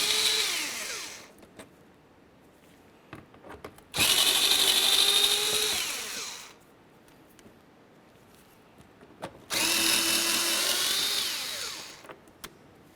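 Power tool spinning out 7mm mounting bolts in a Chevrolet Cobalt wheel well, heard as two loud whirring bursts of a few seconds each, separated by quiet handling clicks.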